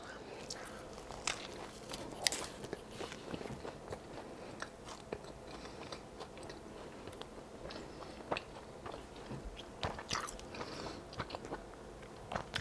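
Someone bites into and chews a Burger King chicken sandwich with crispy breading and tomato. The bites are close and quiet, with irregular crunchy snaps scattered over soft chewing.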